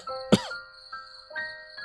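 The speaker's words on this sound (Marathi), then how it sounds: "काही क्षणांनी आतून खोकल्याचा आवाज आला." A single sharp cough comes from inside a house in a Marathi horror audio story. It stands alone against a steady background of faint ringing, insect-like tones.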